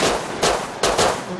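Gunfire in the video game Rust: two sharp, close shots about half a second apart, each with a short noisy tail, over low background hiss.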